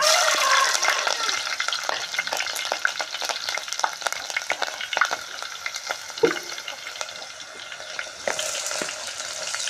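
Four slit green chillies fry in hot oil in a pan, giving a steady, close, hissing sizzle with frequent crackles and pops throughout, no voices.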